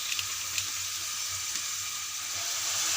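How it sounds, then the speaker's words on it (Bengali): Vegetables for egg-vegetable chow mein frying in a pan with salt, ginger-garlic paste and pepper, giving a steady close sizzle with a few soft clinks, continuous throughout. "সবজিগুলোকে আমরা ভালো করে ফ্রাই করে নেব"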